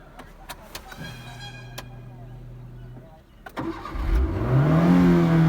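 A car engine cranks and starts during a driving lesson, with a whirring starter followed by a rising, steady engine hum close by, after a held electronic tone.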